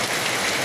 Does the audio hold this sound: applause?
no